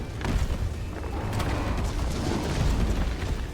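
Explosions in the video game Resident Evil 3 Remake, a continuous rumbling roar of blasts and debris with heavy low-end booms, loud and sustained with no talk over it.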